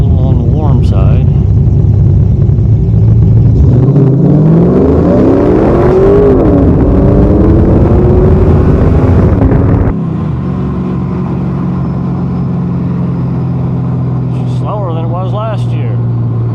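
A 2002 Camaro SS with 3.90 gears on a warm day revs and accelerates hard in a 0-60 run, its loud engine note climbing then dropping to a steady rumble after a shift, close to the microphone.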